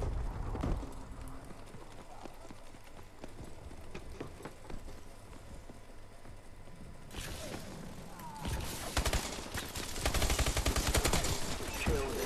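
Gunfire in the Call of Duty: Advanced Warfare video game: a steady stream of rapid shots under busy game noise, swelling into a louder, denser burst of fire near the end.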